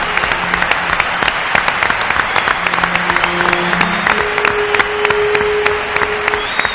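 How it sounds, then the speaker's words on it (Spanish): Audience applause for Carlos Cala, sustained clapping from a crowd with some sharp individual claps standing out, with faint tonal hum and whistle-like tones over it. "Y os pido, como única excepción, para este compañero vuestro que ha nacido donde vosotros, otro aplauso"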